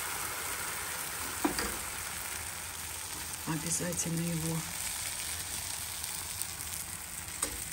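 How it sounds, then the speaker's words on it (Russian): Pancake batter frying in a hot pan makes a steady, close sizzle that runs throughout, with brief bursts of speech laid over it. "Раскалили сковородку."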